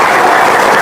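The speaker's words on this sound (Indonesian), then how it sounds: "Yang kencang tepuk tangannya." Sustained applause from an audience at an Indonesian religious gathering, a dense, steady wash of clapping filling the whole moment at full loudness with no pauses.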